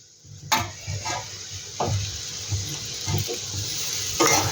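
Egg Maggi noodles stirred in a pan, with repeated scraping strokes and light clinks of the spatula over a soft sizzle, close and clear, no voices.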